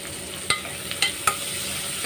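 Onions frying with a little salt in a pan for mushroom kurma, a soft steady sizzle broken by three sharp clicks of a spoon striking the pan as they are stirred.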